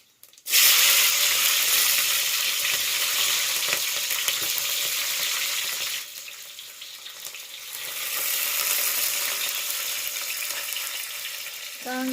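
Green chillies sizzle in hot oil with cumin and mustard seeds, a loud steady frying hiss that starts abruptly, dips briefly midway, then swells again with faint stirring.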